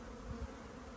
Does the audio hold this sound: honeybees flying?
yes